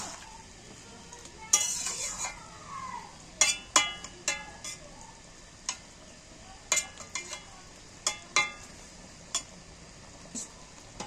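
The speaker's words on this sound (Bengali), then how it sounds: "এইবার আমি এইগুলো সবজিগুলো তুলে দিচ্ছি এর মধ্যে। আমি একটু নেড়ে মিক্সড করে নিচ্ছি।" Vegetables such as taro, potato and long beans are stirred into a prawn curry in a pan, with a spoon scraping and clinking at irregular intervals over a soft steady sizzle, close and moderately loud, with no talking.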